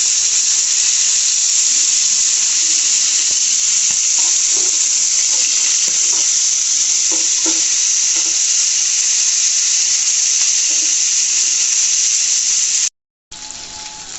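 Chicken wings frying in a pan, a loud, bright, steady sizzle held throughout with faint scattered clicks underneath, cutting out briefly near the end before resuming.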